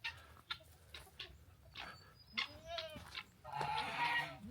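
A goat on a farm bleats a few short, wavering calls close by, mixed with chickens clucking around it as it crowds toward the chicken feed.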